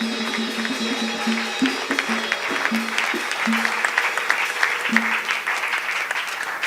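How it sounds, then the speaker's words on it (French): A church congregation applauds to welcome the pastor, a full, steady wash of clapping with sustained musical tones underneath and faint voices mixed in. "Nous acclamons le Seigneur très fort."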